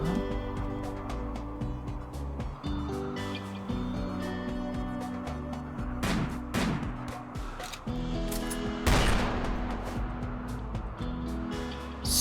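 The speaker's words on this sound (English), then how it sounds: "Little bit of shots going on" Gunshots ring out in a multiplayer video game, scattered sharp cracks spread across dense game music and background effects, with a heavier burst of fire near the end.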